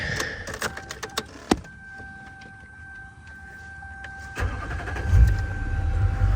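A diesel truck engine cranks and fires up, then settles into a low, steady warm-up idle, preceded by a few clicks and clunks from the cab. Close and moderately loud, with a constant whine over the rumble.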